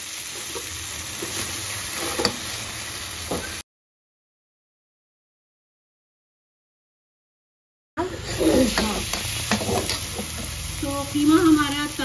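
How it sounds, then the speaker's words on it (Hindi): Tawa keema with yogurt and spices frying on a hot griddle, a steady close sizzle with scraping stirs, broken by a silent gap midway before the crackling resumes louder. "तो इसको जो है अब हम अच्छे से इसकी भुनाई करेंगे।"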